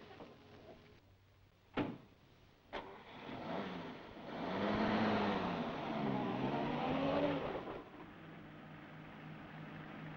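Two sharp door-like thuds, then a car engine starts and hums steadily at close range before fading slightly as it pulls away.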